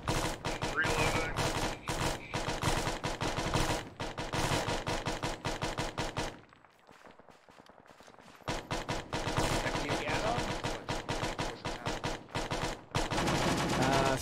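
Dense bursts of automatic gunfire crackle almost without pause through a co-op military video game match, dropping briefly to a quiet gap midway before the loud rattling fire resumes.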